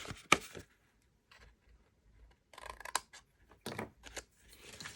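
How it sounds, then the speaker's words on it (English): Scissors snip a small square piece off a paper craft box, several close crisp cuts in short irregular bursts separated by quiet pauses. "I forgot to cut this little square piece off right here."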